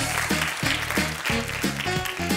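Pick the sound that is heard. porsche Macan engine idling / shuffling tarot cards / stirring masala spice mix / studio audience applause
studio audience applause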